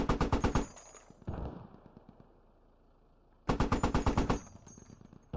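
Automatic rifles in the video game Squad fire two rapid bursts of sharp cracking shots, loud and close, separated by a quieter stretch with faint distant shots and echo.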